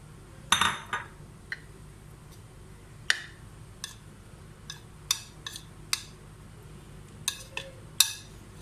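A spoon clinks against a dish as a tablespoon of flaxseed is stirred in, giving a series of sharp, separate metallic taps spread out over a quiet background.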